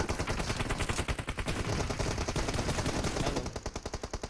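Rapid gunfire in a mobile shooting game: a fast, evenly spaced rattle of loud shots that runs almost continuously and stays close, with no voices.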